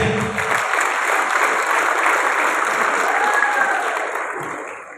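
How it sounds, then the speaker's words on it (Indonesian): An indoor audience at a recognition event claps loudly and steadily for an honoured guest, a dense wash of applause that gradually fades toward the end. "Berikan aplaus yang meriah untuk beliau Bapak Taufik Nur Hidayat"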